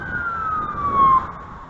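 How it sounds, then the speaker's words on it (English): A police car siren sounding as a steady wail over traffic noise, holding a drawn-out tone that rises briefly louder near the end before settling, with no talk. "The siren is supposed to allow them to clear traffic."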